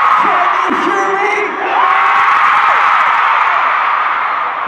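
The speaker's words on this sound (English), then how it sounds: "What a splendid crowd." A huge stadium crowd at a concert at Soldier Field screams and whoops continuously, a loud sustained roar with shrill high cheers and rising yells throughout.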